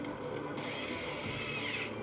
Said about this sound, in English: We'll fasten it with these screws real quick.